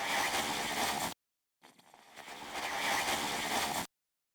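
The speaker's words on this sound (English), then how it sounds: "There's also this second glitch percussion sample here." Glitchy electronic percussion sample from a production session, loud dense bursts broken by abrupt cuts to silence, one stuttering segment about a second long and a longer sustained burst, chopped off sharply at the end.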